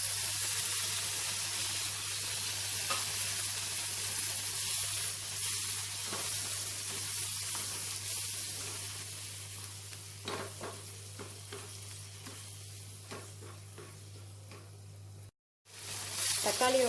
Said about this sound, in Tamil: தக்காளியோட பச்சை வாசனை போகிற அளவுக்கு நம்ம ஒரு 2 to 3 மினிட்ஸ் வந்து நல்லா வதக்கிக்கலாம்.